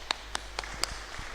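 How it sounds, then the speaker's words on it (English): A few scattered handclaps from an audience at a youth leadership programme's technical session, sparse and separated rather than a full ovation, with faint room noise between them. "Let's give a big clap."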